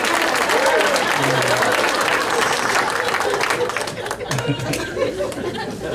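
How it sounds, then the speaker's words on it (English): A comedy show crowd bursts into loud applause mixed with chatter and scattered laughter, the clapping thinning slightly toward the end while murmuring voices carry on underneath. "Even if you don't like it, you gotta clap for that."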